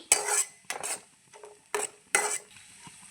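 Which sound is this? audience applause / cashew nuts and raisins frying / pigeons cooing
cashew nuts and raisins frying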